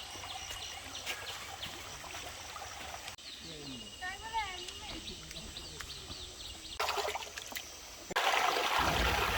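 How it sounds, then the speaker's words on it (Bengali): Napittachhora waterfall on a Bangladesh trek, its flowing water rushing and trickling while birds chirp, with abrupt shifts in loudness and a louder burst of rushing water near the end. "এই ঝর্ণার শব্দটা শুধু পানি না"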